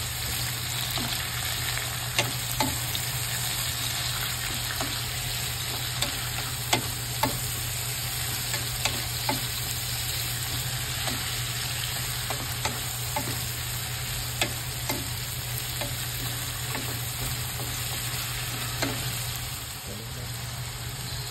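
Food for sweet and sour frying in a pan as it is stirred: a steady loud sizzle throughout, with regular light clicks and scrapes of the utensil against the pan.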